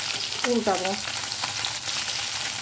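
Kajli fish fry in hot oil in a wok with a steady, close, crackling sizzle throughout. A voice speaks briefly over it near the start.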